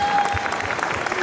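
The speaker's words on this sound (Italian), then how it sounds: "facciamogli ancora un grande applauso, vai!" Award ceremony audience applauding an orchestra's special prize, loud continuous crowd clapping filling the short moment with no break.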